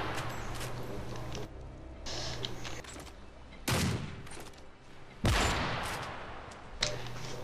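Weapons reload and fire in the PC shooter Modern Warfare 3, with mechanical clicks and clacks of a reload followed by several loud bursts of gunfire spaced across the stretch.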